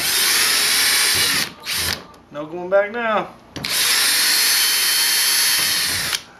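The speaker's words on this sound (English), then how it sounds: "we're going to start drilling" An electric drill whirs loudly in two long bursts while drilling small holes in a kayak, separated by a short pause in which a person speaks briefly.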